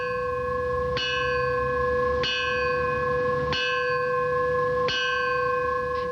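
A fire bell rings four times at an even, unhurried pace during a ceremony, each strike clear and resonant and left to ring out before the next.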